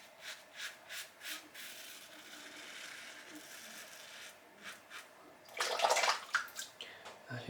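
Water runs and splashes while shaving soap is rinsed off, with soft rhythmic rubbing strokes and a brief louder burst of splashing near the end.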